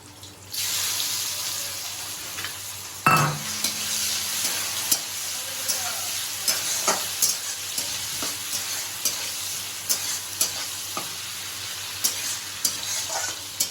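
A quiet pan suddenly erupts when prawns drop into hot oil, then a loud, steady sizzle continues with frequent scraping clicks of a spatula stirring them.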